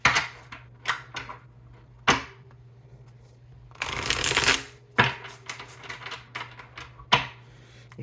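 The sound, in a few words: shuffling tarot cards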